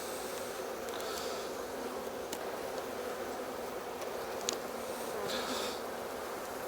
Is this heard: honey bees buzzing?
yes